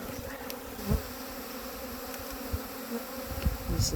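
Honey bees buzz steadily around a nucleus hive outdoors at an apiary, a continuous low drone with a few brief louder passes close by.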